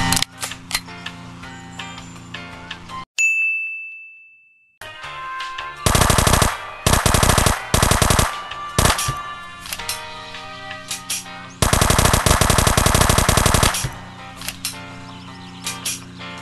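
Video game weapons in Dude Theft Wars fire rapid, loud bursts of automatic gunfire, broken by mechanical clicks and clacks of reloading and a few single shots.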